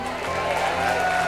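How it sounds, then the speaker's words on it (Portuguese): A church congregation claps for the Lord, a brief dense burst of applause blended with music tones and a voice underneath. "Levanta a tua mão e aplauda o Senhor."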